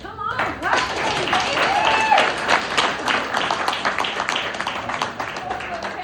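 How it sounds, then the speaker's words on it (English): Audience at a speaking event in Bellevue breaking into loud, sustained applause with cheers and whoops, dense close clapping filling several seconds, voices calling out over it. "Come on, clap for them"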